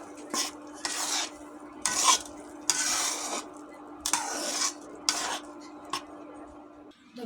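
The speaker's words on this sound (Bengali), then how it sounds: "এখন আমি ভালো করে নেড়ে দেবো" A utensil stirs grated carrots in a pan in a series of distinct scraping strokes, roughly one each second, with a light sizzle between them and a steady faint hum underneath.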